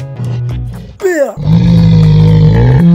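Cartoon bear lets out a loud, close growling roar, rising then sustained, after a brief sweeping effect, with a short animated creature sound before it.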